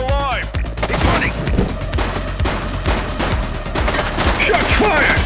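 Dense bursts of gunfire ring out during a police chase in the video game The Precinct, rapid overlapping shots over heavy background noise, with a voice briefly calling out.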